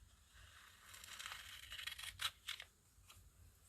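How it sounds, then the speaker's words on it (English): Scissors cut through catalog paper in a quiet craft session, giving soft crisp snipping and crinkling rustles that build to a few sharper snips, faint and close. "how am I cutting with these scissors?"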